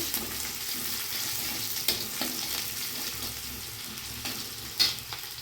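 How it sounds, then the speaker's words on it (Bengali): Steady crackling sizzle of onions frying in hot oil, with a few sharper clinks and scrapes of stirring. "বন্ধুরা হালকা করে পেঁয়াজটা ভাজা হয়ে গেছে,"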